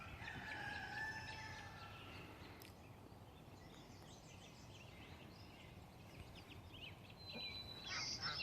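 Chickens and a rooster near a garden chicken coop sound faintly from a distance, with intermittent calls and crowing over a steady outdoor background hiss.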